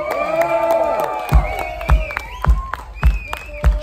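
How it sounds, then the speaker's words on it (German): A festival crowd at the Club of Newchurch 2019 cheers, whoops and applauds for performer Rocco Recycle. Loud, mixed voices ride over a steady run of heavy rhythmic thumps. "Ich bitte um einen riesen Applaus für Rocco Recycle"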